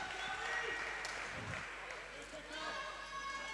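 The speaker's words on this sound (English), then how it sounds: "Oh, the crowd's up and about." Crowd noise rises at a wheelchair rugby league match between NSW and England, a broad murmur of cheering and applause in a large venue, steady throughout with commentators talking over it.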